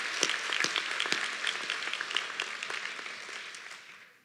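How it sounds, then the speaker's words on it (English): An audience at a high school graduation ceremony applauds, a dense burst of many hands clapping that carries on steadily and then fades out at the end. "give him a big round of applause"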